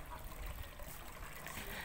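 A small budget garden water feature trickles steadily outdoors, a continuous soft splashing dribble with low background rumble and no clear talk.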